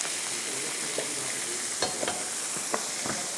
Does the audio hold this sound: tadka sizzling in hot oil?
yes